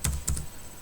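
Keystrokes on a computer keyboard while typing a short git commit message, a few quick clicks in two close bursts near the start, then quiet room noise.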